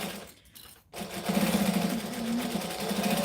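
A sewing machine backstitches on a small bag, its needle clattering in a quick, even mechanical rhythm after a brief pause, close and moderately loud.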